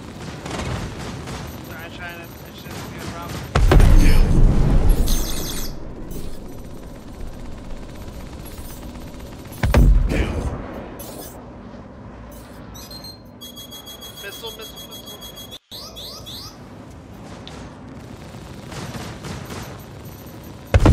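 Gunfire striking ship shields during a Star Citizen battle, with heavy bursts and booming impacts rising loud around the start and again midway over a constant rumbling engine bed, mixed with radio-style voices.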